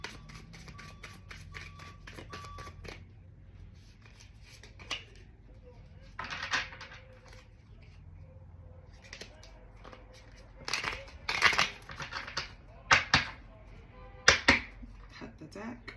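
A deck of tarot cards is shuffled and cut, giving a rapid riffle followed by scattered soft slaps and flicks of cards, close by, with a voice talking at points.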